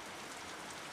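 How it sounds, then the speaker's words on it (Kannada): Steady rain falls in a village, a dense, even hiss of drops hitting surfaces with no break and no voices. "ಮಳೆ ಆಗತೈತಿ, ಖುಷಿ ಆಗತೈತಿ ನೋಡ್ರಿ."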